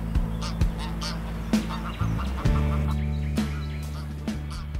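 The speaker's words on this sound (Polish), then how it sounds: "tworzy klucze, w których odzywa się przypominającym gęś domową gęganiem." Greylag geese give loud, nasal honks in irregular bursts, several calls overlapping near the listener, sounding much like farmyard domestic geese.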